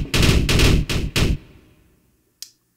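A burst of rapid machine-gun fire from a Sytrus synth preset, four loud clustered volleys in the first second and a half, then a short decaying tail and one faint isolated shot near the end.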